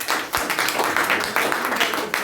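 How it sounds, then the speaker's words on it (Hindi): A classroom of students claps for a student named Harsh during a live lesson, a dense rattle of many hands swelling in short bursts, fairly loud and close, with no speech over it. "हर्ष के लिए सबसे पहले ताली।"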